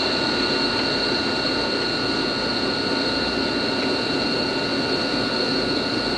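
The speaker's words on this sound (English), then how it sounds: "I actually run a 40 horsepower rotary phase converter here at the warehouse." A 40 horsepower rotary phase converter runs in a warehouse, giving off a steady, loud mechanical hum with whining tonal bands and broadband whoosh, constant throughout with no talking.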